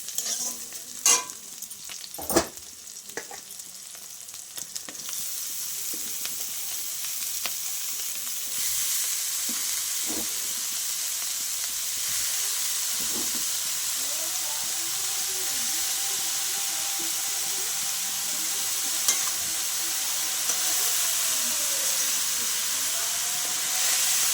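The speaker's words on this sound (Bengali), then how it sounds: "আমি নেড়ে ছেড়ে এখন শাকগুলো দিয়ে দেবো।" Pea greens sizzle and hiss in hot oil with fried chillies, a steady close frying crackle broken by occasional scrapes and knocks of a stirring spoon against the pan.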